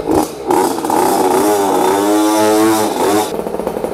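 A 50cc automatic mini trail motorcycle engine runs close by, buzzing loudly and rising in pitch as it revs, then settling back to a rough idle.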